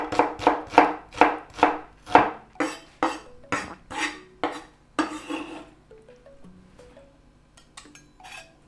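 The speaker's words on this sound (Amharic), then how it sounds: "እንደዚህ ድቅቅ አድርገን ሽንኩርት እንጨምርበታለን።" A knife finely chops onion on a board in about a dozen crisp, evenly spaced close strokes, then slows into quieter taps and a few faint clinks.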